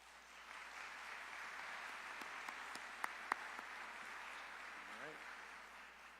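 A large audience at a county address gives steady, moderately distant applause for Board of Education members, with a couple of sharper nearby claps standing out and a faint voice near the end.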